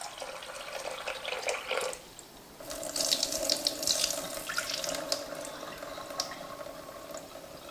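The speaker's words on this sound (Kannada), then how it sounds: "ಒಂದೆರಡು ಸತಿ ತೊಳೆದು ನೆನೆ ಹಾಕಿಡ್ಬೇಕ್ರಿ." Sago pearls (sabudana) are rinsed in water in a bowl, giving a running, splashing wash that pauses briefly and then resumes more fully with swishing and trickling. No voices are heard.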